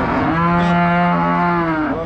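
A Friesian cow lets out one long, loud, close moo that rises slightly in pitch and holds for about two seconds.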